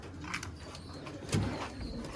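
Banka pigeons coo softly at close range, low murmuring calls running steadily under faint background noise.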